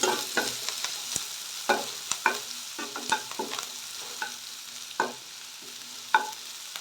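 Onions frying with curry leaves in a pan until reddish, a soft steady sizzle broken by frequent distinct spatula scrapes and taps, close and fairly quiet.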